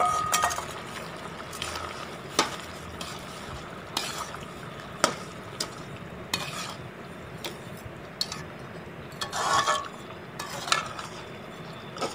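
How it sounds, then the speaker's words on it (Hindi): Sugar goes into a pan of pumpkin and milk halwa and is stirred, with steady scraping and soft sizzling broken by sharp clinks of a spoon against the pan. No one speaks. "अब इस स्टेज पे इसमें चीनी डाल देंगे"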